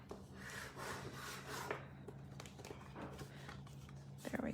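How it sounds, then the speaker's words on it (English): Bone folder burnishing a paper card border on a crafting table: soft, continuous close rubbing and scraping strokes against the paper, fairly quiet, with faint talk at moments. "I'm going to do a little bit of burnishing with my bone folder"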